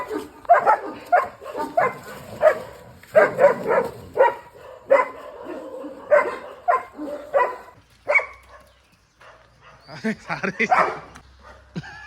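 Village dogs bark in short repeated yaps and woofs after chasing a calf, close and loud, mixed with someone talking over them.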